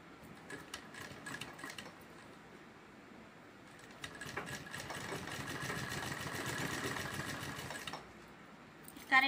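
Sewing machine stitching a fabric cover for a chair cushion, running in a steady buzzing hum in two bursts with a brief pause between, close and moderately loud, no talking.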